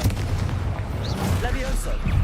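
A Confringo fire spell blast in the Hogwarts Legacy video game, heard as booming, gunfire-like bursts with a heavy low rumble and scattered whooshing sparks over continuous battle noise.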